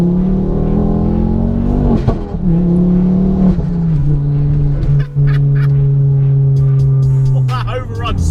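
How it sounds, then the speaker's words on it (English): A Ford Focus RS MK2 drones loudly under load, then lifts off into exhaust overrun with crackling pops and bangs, heard up close from inside the car. "That overrun's so loud, isn't it?"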